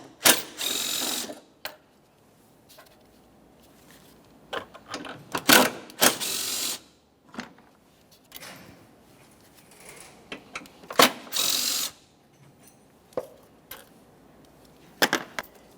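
Three 10mm bolts being removed from the lower air filter housing of a 2014-2019 Toyota Corolla 1.8L: repeated bursts of ratchet clicking and metallic tool clatter, close and loud, separated by short quiet pauses.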